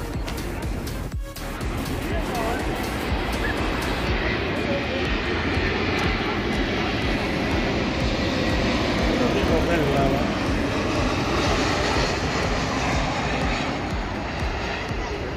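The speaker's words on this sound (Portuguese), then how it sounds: "Vamos voltar aqui porque tá vindo um avião aqui" An airplane flies low over a beach, its engine roar loud and continuous for fifteen seconds and swelling slightly as it passes close overhead, with people talking beneath the noise.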